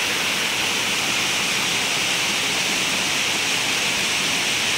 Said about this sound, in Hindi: कितने सुंदर झरने